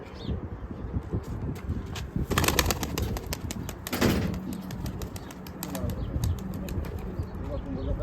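Pigeons flap their wings in a sudden noisy burst, with softer fluttering and bird calls around it and faint background voices.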